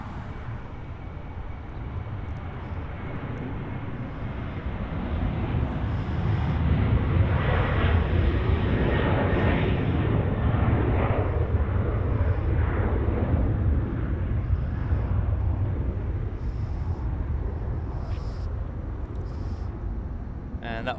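An airliner departing Los Angeles airport produces a long, broad jet roar that swells over several seconds and then holds steady at a distance, with faint radio chatter and bleeps over it.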